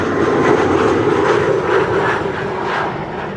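An airliner arriving from Brussels at Amsterdam Schiphol on a frosty, sunny day gives a steady, broad jet roar that swells slightly and then eases as it passes.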